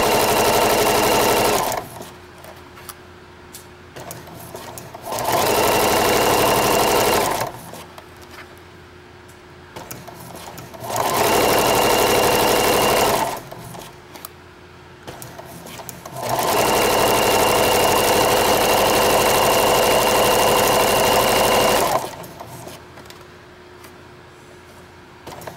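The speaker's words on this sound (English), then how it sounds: "to lock my stitches I'll take a few stitches back, and then we'll just sew along." A sewing machine whirs in repeated bursts of steady stitching, several seconds each, separated by short pauses with quiet background hum.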